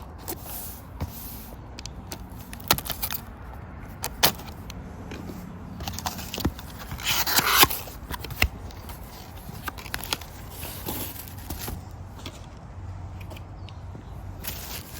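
A Hot Wheels Porsche toy car package being opened by hand, with crinkling plastic, taps and short scraping handling noises scattered across the clip, close up and fairly quiet, with a louder burst of tearing midway.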